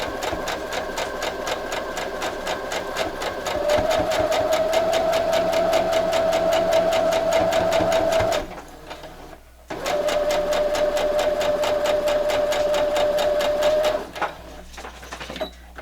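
A sewing machine runs quilt table runner pieces forward and then backward, a loud close rhythmic whirring hum with a rising whine, pausing briefly near the middle before starting again.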